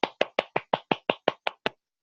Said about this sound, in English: give a round of applause to Matt for that